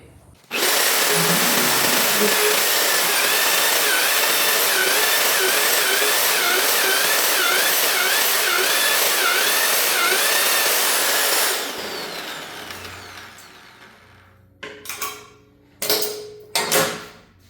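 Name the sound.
Evolution magnetic drill drilling holes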